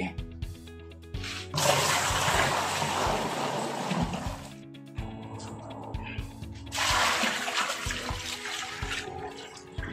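Water gushes and splashes into a ram pump during a leak test, in two long loud pours separated by a brief pause, with clunks and knocks between them.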